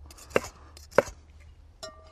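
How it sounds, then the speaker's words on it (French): A kitchen knife slices grilled sausages on the bias, giving two sharp, close chops on a board about half a second apart, then a lighter cut with a faint ringing tone near the end. "On va juste les couper en biseaux."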